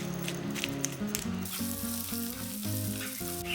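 Onions stir-frying in two tablespoons of cooking oil in a frying pan, a close continuous sizzle with spatula scraping and faint background music, nobody speaking.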